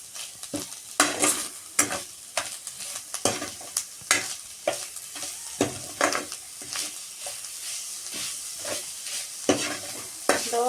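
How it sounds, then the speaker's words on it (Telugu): Coconut ladoo mixture with sugar stirred in a pan over low flame, with steady scraping strokes and soft sizzling that repeat in an uneven rhythm, close and fairly loud, with no voices. "ఇందులోనే కాస్తంత చక్కెర వేసుకుందాం, తగినంత వేసుకొని కలుపుకుందాం."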